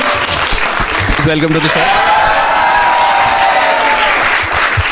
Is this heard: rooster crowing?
no